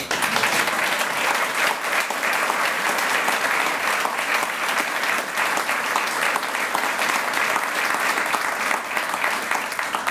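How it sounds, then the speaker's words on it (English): Many people clap continuously at a 2013 Kansas City Public Schools accreditation press conference, a steady, even roar of applause lasting around ten seconds with no pauses. "You can applaud, please."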